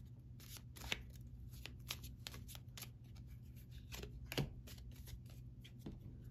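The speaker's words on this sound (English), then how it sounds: "I'm going to actually pull y'all one more card." A deck of cards shuffled repeatedly for a card reading, quick riffling bursts and soft flicks close by with a low steady hum underneath.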